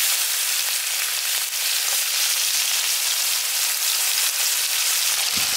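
Chopped onions hit hot oil with nigella seeds for a village-style fish curry, filling the air with a steady, close, loud hiss of frying that holds without pause and has no speech.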